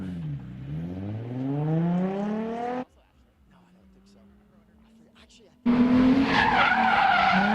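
Tires of a grassroots drift car squeal in a loud, long skid during a qualifying run, cut off abruptly, followed by a quieter engine gap, then the screech returns hard. A commentator talks over it.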